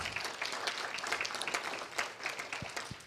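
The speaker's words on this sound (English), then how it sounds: "If you'll give them a round of applause" Audience applause at an election forum for mayor, continuous moderate clapping from a seated crowd with individual claps standing out, heard alone.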